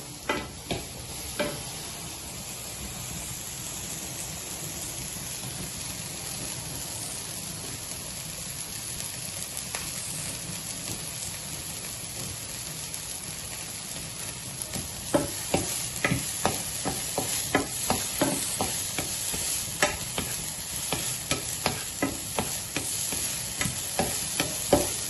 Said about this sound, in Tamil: கடுகு, சிறிது நேரம் இது வதங்கட்டும்.